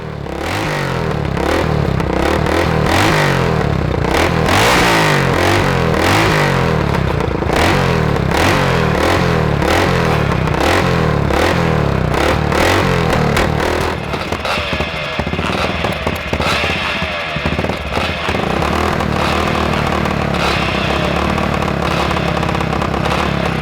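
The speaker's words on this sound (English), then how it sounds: "another gorgeous looking twin shocker, and you can see John racing this bike in the pre-1984 class" A vintage twin-shock dirt bike from the pre-1984 racing class revs hard and close in the paddock at Thornhill, its engine roaring and rising in repeated pulses, loud and continuous throughout.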